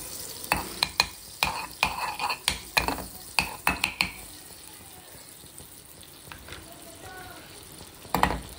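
Vegetables sauté in butter in a hot kadai for white sauce pasta: a run of sharp, rhythmic clanks from a utensil striking the pan over a soft, steady sizzle, then quieter stirring and a final clatter.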